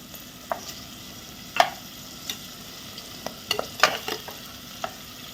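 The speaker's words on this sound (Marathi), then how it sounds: "हा गोडा मसाला सुद्धा आपण फोडणीतच घालणार आहोत कारण फोडणीत घातल्यामुळे त्याचा स्वाद खूप चांगला येतो" Goda masala and cashews fry in tempering oil for masale bhaat, a steady soft sizzle broken by sharp, irregular clinks of a spoon stirring the pan, close up with no talking.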